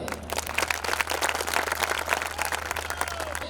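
Audience applause at a poetry recital at Bageshwar Dham, with a large crowd clapping in a steady, dense patter for several seconds and no voices over it.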